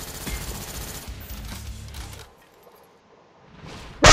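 FAMAS rifle fire in Call of Duty: Black Ops, with rapid bursts of shots during the first two seconds, then a near-silent pause, and a sudden loud blast at the very end.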